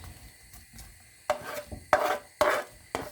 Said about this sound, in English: I'm just chopping up a little bit more